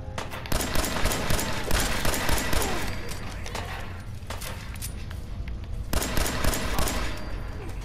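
Dense automatic gunfire and rapid shots from a video game firefight, loud and continuous with bursts and brief pauses, no talking.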